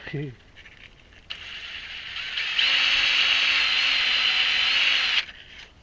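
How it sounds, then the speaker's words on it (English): A power drill whirs steadily for several seconds spinning a wooden wind-turbine part against sandpaper with a raspy sanding scrape, then stops abruptly. "So the way I'm going to shave these down is chuck them in the drill."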